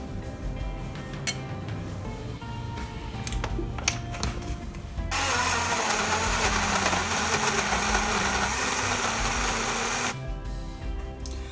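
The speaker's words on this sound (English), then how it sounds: "We're going to blend them now." Soaked beetroot and tomato for gazpacho whir in a blender. Quieter mechanical clicks and handling come first, then a loud, steady blending roar runs for about five seconds before it cuts back down.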